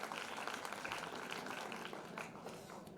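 Crowd clapping at a community award ceremony honoring students, dense continuous applause from a hall audience, fairly even and moderately loud with no voices over it.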